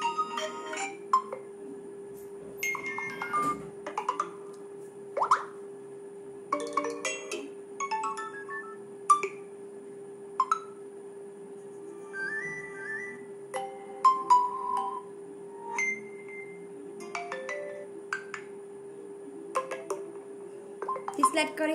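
Short notification chimes and electronic tones from a Vivo V21e phone play one after another with gaps between, each a brief bright preview over a faint steady hum, with no talking.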